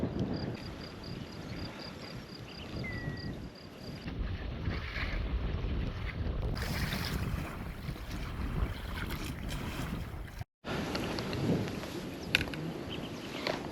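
Strong wind buffets the microphone outdoors near water while fishing, a loud continuous rumbling roar with gusty surges and brief dropouts, and no voices.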